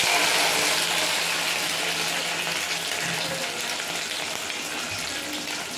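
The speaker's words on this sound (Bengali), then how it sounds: "কড়াইতে তেল দিয়েছি, তেল গরম হয়ে গেছে, এখন সোয়াবিনটা ভেজে নেব।" Soybean chunks frying in a wok of hot oil, a steady broadband hiss and crackle that runs continuously and fairly loud throughout, with no talking.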